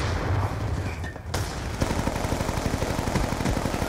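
Gunfire in a Call of Duty Hardpoint match on the Hijacked map, a dense, loud stream of rapid shots and booms that sharpens into fast repeated fire after a brief pause.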